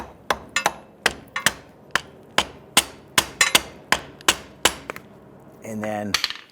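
Repeated metal-on-metal hammer taps, about a dozen sharp evenly spaced knocks, seat a pry bar between the axle and differential while swapping front upper control arms and ball joints on a 2011-2021 Jeep Grand Cherokee, ending in a short scraping rattle.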